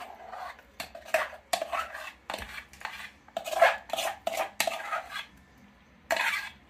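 A spoon stirs broken wheat kheer made with milk and biscuits in a metal pot, giving repeated clinking, scraping strokes in an uneven rhythm, close and fairly clear, with no talking.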